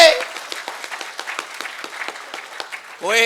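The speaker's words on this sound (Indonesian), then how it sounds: "Tepuk tangan sing rame." Audience at an Indonesian motivational gathering claps in scattered, uneven bursts, fairly light and sparse rather than a dense roar, with a voice cutting in at the very end.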